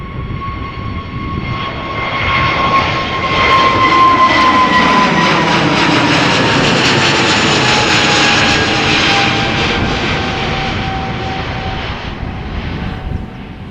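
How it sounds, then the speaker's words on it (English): A British Airways Airbus A320neo bound for London Heathrow passes at Amsterdam Schiphol, its jet engines building into a loud, sustained roar with a high whine that gently drops in pitch as it moves by, alone without talk. "this A320 Neo from British Airways also going to London Heathrow"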